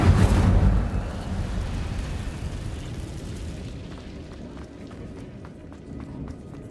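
Incendio fire spell cast in Hogwarts Legacy: a loud whooshing burst of flame at the start that quickly settles into a lower rumbling crackle and fades away, with faint ticking sounds later.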